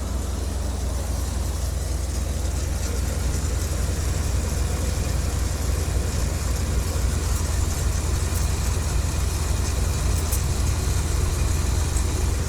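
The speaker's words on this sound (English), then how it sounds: "She's still got a little bit of a rough idle to her, but not bad." A vehicle with 187,000 miles idles in neutral with a slightly rough idle. The low, steady engine rumble runs unbroken and fairly close the whole time, with no talking.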